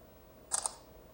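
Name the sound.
Oukitel C23 Pro phone camera shutter taking a selfie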